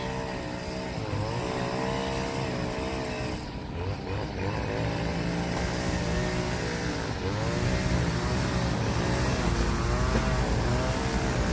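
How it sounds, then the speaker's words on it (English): A car drives past on a road, its engine droning steadily and swelling as it goes by, with no voices. "that's the first vehicle that's gone past me"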